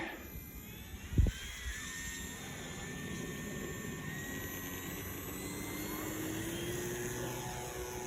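An aircraft taking off with a steady, faint engine drone and rising tonal whine, a brief thump early on, heard from on board and continuing evenly throughout.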